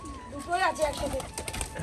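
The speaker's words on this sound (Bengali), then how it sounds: "দেখুন এখানে সমস্ত পায়রা চলে এসছে" Pigeons coo softly in short, wavering calls at a home loft, under and between people talking nearby.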